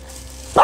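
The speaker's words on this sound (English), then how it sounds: "Enough with the barking." A single sharp dog bark bursts out at the end after a quiet stretch of faint background hum, loud and close.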